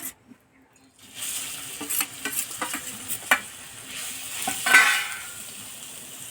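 Chana dal paste sizzles and fries in ghee in a wok over a stove flame, with intermittent scraping stirs and small clinks of a utensil against the pan, fairly close and without talk.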